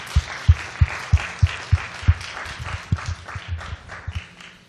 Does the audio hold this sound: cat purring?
no